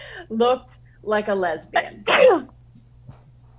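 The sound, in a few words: audience member sneezing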